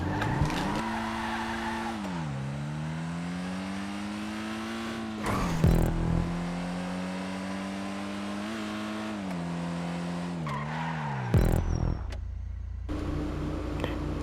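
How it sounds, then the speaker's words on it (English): The Kanjo SJ Coupe, a car in a video game, revs hard and loud, its engine note climbing and dropping through repeated gear changes with brief tire squeals. "let's just test the sound again, just one last time. we've got the Kanjo SJ Coupe"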